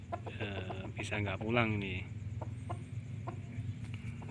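A rooster with long leg spurs, tied up, gives a few soft, close clucks and short calls while a person speaks quietly nearby.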